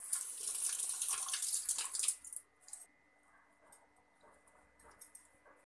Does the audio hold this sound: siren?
no